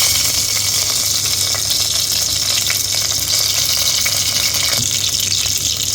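Mustard seeds, urad dal and curry leaves fry steadily in hot oil with a continuous, even sizzle that holds at a constant level throughout, with no talk.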